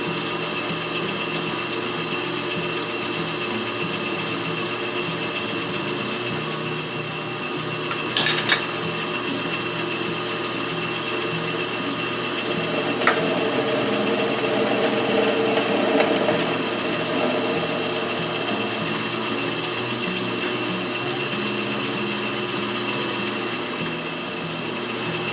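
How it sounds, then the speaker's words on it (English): A round column milling machine drills a pilot hole with a steady motor whine and a mechanical hum that runs on evenly and moderately loud, with a few brief clanks and a slight swell in the middle. "Now I'm drilling a pilot, and I'm going to drill it to just under 1/4 inch."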